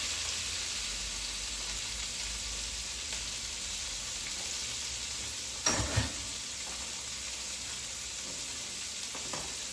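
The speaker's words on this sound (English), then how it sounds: "go ahead and saute your onions" Onions sautéing in butter and bacon grease sizzle steadily in a pan, with a brief clatter of stirring in the middle and no talking.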